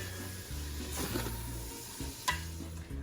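Meat browning on the stove for carne en su jugo, a quiet steady sizzle with a low hum underneath and a single louder clink or scrape near the middle, no voices.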